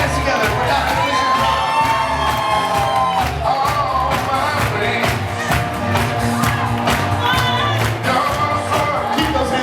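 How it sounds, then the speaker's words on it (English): Wedding reception guests cheer and shout over loud music as a couple is introduced, a dense, steady crowd roar with whoops rising throughout. "put your hands together for Dr. and Mrs."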